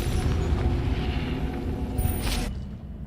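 A Confringo fire spell explodes in Hogwarts Legacy as a loud, continuous booming blast that rumbles for about two and a half seconds, then cuts off abruptly into near silence.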